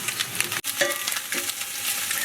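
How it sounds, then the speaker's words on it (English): Garlic sizzling in a hot pan for fried rice, a bright, constant frying hiss with a brief gap and scraping stirs, close and alone. "As you can see, everything is sizzling in there"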